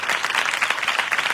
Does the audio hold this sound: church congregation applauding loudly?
yes